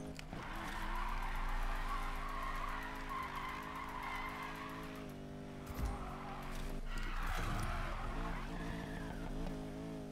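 A car in the Need for Speed Payback racing game drives hard and skids through a sharp curve. A loud, continuous engine drone carries tire screeches, with a brief dip partway through before the roar builds again. No one speaks.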